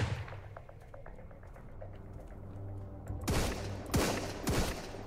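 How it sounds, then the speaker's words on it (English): Enemy gunfire in the video game Sunkenland: sharp shots crack out in a quick burst of three or four loud reports over a steady low in-game hum, after a quieter stretch. "Where exactly is that guy shooting?"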